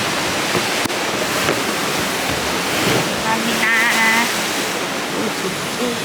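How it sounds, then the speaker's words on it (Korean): Ocean waves break on the East Sea shore at Uljin, a steady, close wash of surf filling the scene, with a faint voice briefly under it. "파도 피는 거 봐."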